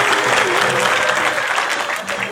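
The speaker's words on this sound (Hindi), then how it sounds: "कोहराम बजे तो ताली बजाओ" Loud, dense applause from an audience greeting South Indian actress Pakkhi Hegde at a public speaking event, continuous clapping with crowd noise throughout and no pauses.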